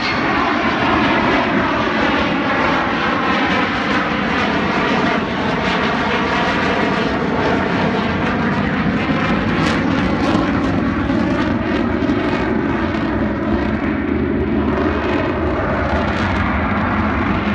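Avro Vulcan XH558 bomber flying an airshow display at Southport, a loud continuous engine roar that swells and shifts in pitch as the aircraft passes, with no voices over it.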